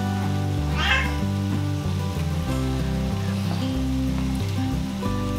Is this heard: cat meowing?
yes